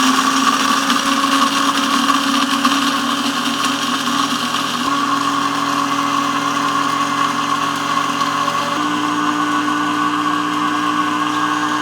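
Gourmia 12-cup programmable grind-and-brew coffee maker running, a loud, steady motor whine with a constant mechanical hum and buzzing overtones that shift pitch slightly partway through, heard alone without talking.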